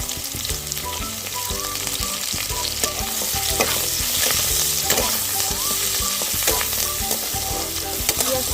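Chopped onion fries in hot oil with garam masala and a bay leaf, a loud, dense sizzle that builds and holds, with repeated spatula scrapes and clinks against the pan close by.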